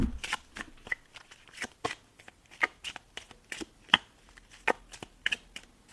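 A tarot card deck is shuffled by hand in a quiet room, giving a run of crisp, close riffling snaps and flicks in an uneven rhythm over several seconds.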